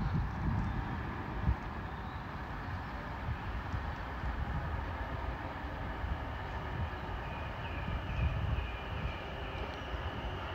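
Greater Anglia class 720 electric unit 720546 arriving at Cheshunt station on a Stratford to Bishops Stortford service, a steady low rumble and rolling hum that holds at a constant level throughout, with no voices.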